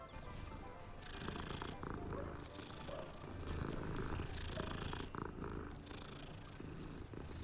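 In Hogwarts Legacy, a cat purrs with a low rumbling rhythm close up, steady and continuous over game ambience, with faint breathy rises and falls.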